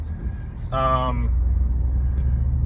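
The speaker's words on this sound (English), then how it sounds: "Holy mackerel, that truck almost hit me." A truck rumbles past close by on a road, a loud low roar that swells suddenly and holds, while a voice briefly cries out over it.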